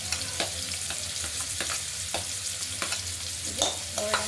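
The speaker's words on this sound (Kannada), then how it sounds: "ಇದು ಗೋಲ್ಡನ್ ಕಲರ್ ಬರೋದಕ್ಕೆ ಫ್ರೈ ಮಾಡ್ತೀವಿ." Garlic frying in oil until golden for an okra stir-fry, a constant sizzle with frequent small scrapes and taps of a spoon against the pan.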